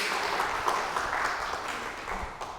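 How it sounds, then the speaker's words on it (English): Audience applause at an agent development program presentation, a steady wash of clapping from a room of people welcoming a volunteer to the front, moderately loud and continuous with no talk over it. "Let's give him a round of applause"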